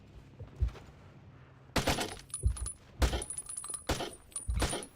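Gunfire in the Vietnam War shooter Battlefield Vietnam, several bursts of sharp shots at moderate distance separated by short gaps, with clinking and rattling in between.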